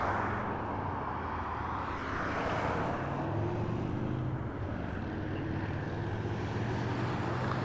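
A United Boeing 737 on the runway at Las Vegas Harry Reid airport, with a steady, fairly loud broadband engine roar and low rumble holding throughout, with no voices.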